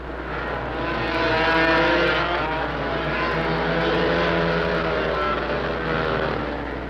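Yamaha race bikes roar around a concrete track at a 1971 race, engines rising and falling loudly as they pass close by, with a sustained buzzing drone throughout.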